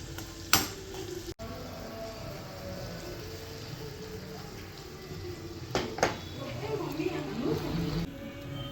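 Onions, ginger, garlic and chillies sautéing with salt in a pan over a medium flame, a steady soft sizzle with a few clanks of stirring utensils, a voice talking over it.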